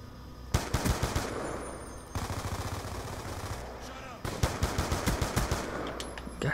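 Rapid automatic gunfire in a Call of Duty: Black Ops 2 multiplayer match, loud bursts of sharp shots in quick rhythm separated by short pauses, with one steady burst in the middle.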